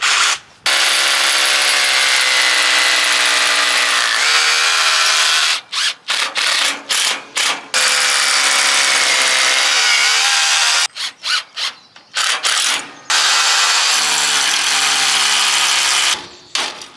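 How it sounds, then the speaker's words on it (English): A power drill bores into brick and then drives screws to fix a second-hand greenhouse frame down with raw plugs, in long loud whirring bursts broken by short pauses, close by. "I'm going to fix it down. Just using some raw plugs and some screws."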